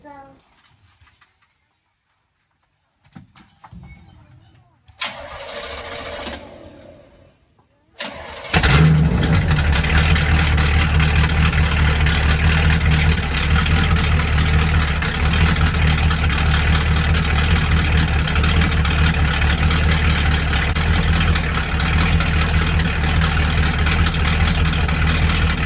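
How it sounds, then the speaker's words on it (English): A car engine outside in a driveway cranks briefly, falters, then catches and settles into a steady, loud idle that runs on for the rest of the clip. "So I start it once it's out in the driveway."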